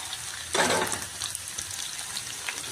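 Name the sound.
stirring mixed vegetables in a frying pan for veg kadai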